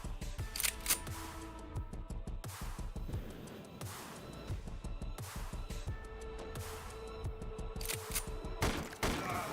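Rapid gunfire in the video game UFO 50's Bullet Noir, dense bursts of shots and thumps fired in quick succession, loud and continuous with sharper cracks scattered throughout and no talking.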